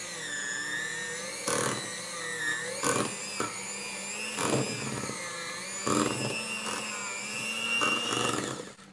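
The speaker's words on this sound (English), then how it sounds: "I'm going to just break it up, and then I'm going to start whipping just a little bit." An electric mixer whips avocado butter for a rose-scented body butter, a steady motor whir with rising and falling pitch and periodic louder bursts as the beaters churn the thick butter, continuous and close.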